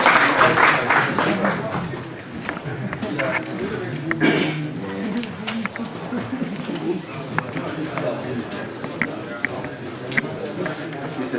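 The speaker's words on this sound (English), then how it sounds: "Ladies and gentlemen, with a round of applause, help me to welcome Ahmed Mustafa Badawi." Audience applause at a GAKİD symposium welcoming speaker Ahmed Mustafa Badawi, a steady wash of clapping from a hall crowd filling the clip with dense, continuous noise.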